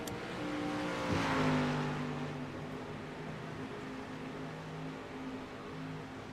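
Street stock race cars in an iRacing simulation at Lakeland, engines droning with layered harmonic tones and a swelling pass around the second mark, then a steady multi-car roar with tire strain, no voices.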